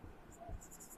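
Quiet scratching of a pen on paper during a class 10 maths lesson, faint and close, with soft strokes over about a second.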